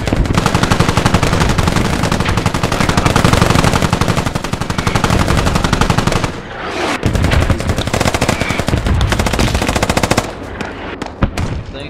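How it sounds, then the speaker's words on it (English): Sustained machine gun fire in a squad-based military shooter video game, loud and close, with long rapid bursts rattling for several seconds before a short break and further shots. "It's a machine gunner."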